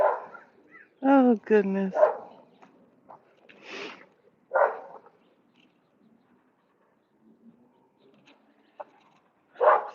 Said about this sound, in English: See, the squirrel be up there antagonizing that dog.